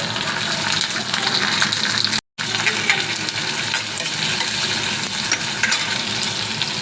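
Coarsely chopped onion frying with garlic in a hot wok, a steady crackling sizzle with stirring scrapes throughout, broken by one very brief silent gap.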